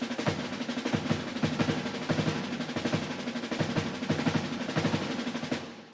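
Layered snare drums panned left and right play a busy, steady pattern of crisp hits, close and fairly loud, with a slight roll-like texture throughout.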